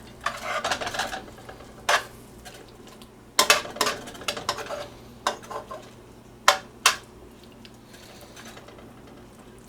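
Pieces of food pushed and spread around a pan, with scattered scrapes and sharp clinks of utensil on metal, some close and crisp, separated by short quiet gaps.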